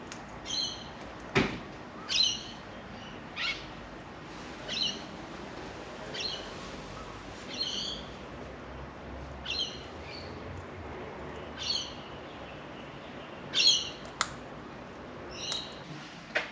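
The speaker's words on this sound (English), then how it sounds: "They have wild cockatoos in their garden." Wild cockatoos in a garden in Australia's capital call repeatedly, with short high squawks spaced every second or two over about sixteen seconds against faint outdoor background noise.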